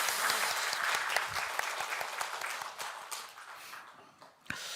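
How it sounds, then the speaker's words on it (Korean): Congregation in a church at a Sunday morning service claps in a dense, steady burst of applause that tapers off toward the end, with one last sharp clap. "박수 하나님께 올려드리겠습니다"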